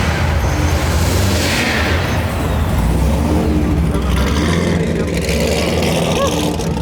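A 1000+ horsepower C7 Corvette Stinger build rolls out at a crowded car meet, its deep engine rumble steady and loud under constant crowd noise and nearby voices.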